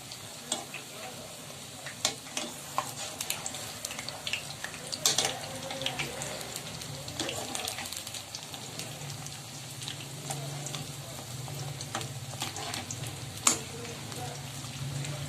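Potato pakoras deep-frying in hot oil give a steady, dense sizzle with scattered crackles and pops, close and continuous throughout, with no voices.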